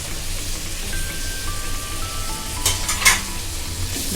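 Chopped tomatoes with mint and coriander sauté in a pot for a mutton biryani, a steady close sizzle under occasional scraping and clinks of a spoon as the mixture is stirred.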